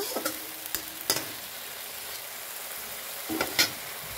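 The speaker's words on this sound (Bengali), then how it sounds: "এভাবে মশলাটাকে ভালো করে কষিয়ে নেব" Ginger-garlic spice masala fries in a pan with a soft continuous sizzle, while a utensil stirs and scrapes it in a few sharp knocks, close by and with no one speaking.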